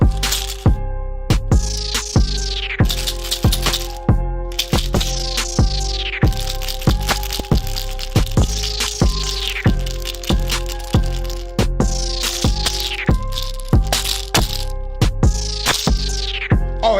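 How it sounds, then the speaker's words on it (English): A pill bottle rattle sample sits inside an FL Studio beat, sharp plastic cracks and rattles landing in a tight repeating rhythm over deep booming bass hits and a looping melody, loud and continuous. "Oh, that's that pill bottle sound."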